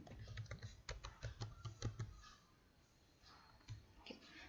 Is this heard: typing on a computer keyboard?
yes